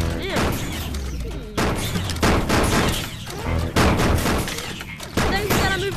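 Video game gunfire crackles in dense, continuous bursts, loud and close, with brief lulls between volleys and speech-like sounds mixed into the busy battle noise.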